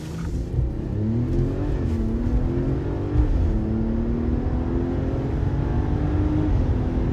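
A 2025 Ram 1500 RHO with a high-output twin-turbo inline-six launching hard, a loud, close engine roar whose pitch climbs steadily through the run as it accelerates.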